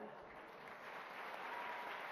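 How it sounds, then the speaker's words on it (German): Audience applause at a prize presentation during an annual Ghadir Khumm festival event in Hagen, a steady dense wash of clapping that holds and swells slightly toward the end. "Und jetzt Applaus."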